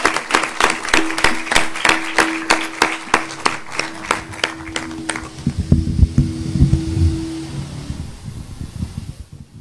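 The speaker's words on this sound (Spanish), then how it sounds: "Bueno, un aplauso." Audience applause closes a conversation event at the Museo Rayo: a burst of sharp, fairly distinct hand claps that thins out after about five seconds, leaving a low rumble and faint crowd murmur with a steady hum underneath.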